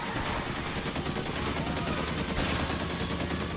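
Dense, continuous gunfire crackles through a shootout in L.A. Noire, steady and fairly loud with no pauses across the short stretch.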